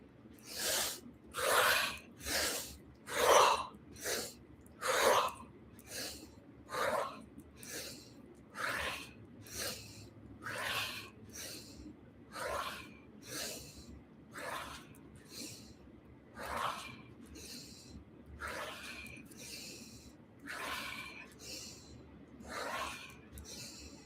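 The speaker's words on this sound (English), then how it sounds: "you can always adjust the tempo, the size, the depth, the intensity of this breathing" Slow, deep rhythmic breaths from a breathing exercise, each a soft hissing inhale and exhale repeated about twenty times, close and quiet, with no talk.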